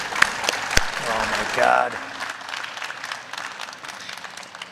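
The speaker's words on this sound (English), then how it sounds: "Let's give him another round of applause." An audience at an agricultural innovation stage event claps in a short burst of applause. A voice exclaims briefly, and then a speaker talks as the clapping fades.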